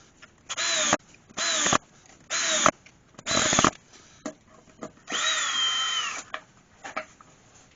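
A power drill drives screws into a large wooden bowl blank to fix it for lathe turning. Four short, loud whirring bursts come in quick succession, followed by one longer sustained run and a few faint clicks.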